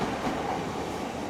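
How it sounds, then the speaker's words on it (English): A passing train near a muddy riverside foreshore at sunset, a steady broadband rumble with faint rhythmic wheel clatter, continuous and moderately loud for the whole stretch. "Oh, there's a train."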